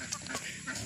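Farm chickens clucking faintly in the background, soft scattered clucks over a low steady ambient hum, distant and quiet.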